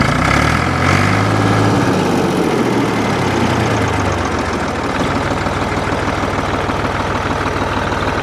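A Ford 4000 tractor engine, newly repaired with a generator and voltage regulator, runs steadily close by. It gives a loud, continuous, throbbing diesel idle that shifts in pitch early on, then settles into an even chugging rhythm, with no talking.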